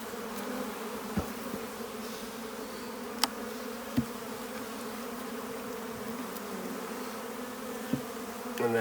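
Honey bees hum in a steady, dense buzz as they are put into a hive, with a few soft knocks of wooden frames, and no voices.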